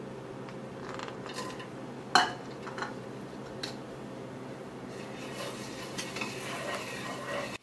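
Chopped garlic and cumin seeds fry in hot oil for chicken 65, a steady close sizzle with occasional sharp pops and light clinks of a stirring utensil against the pan.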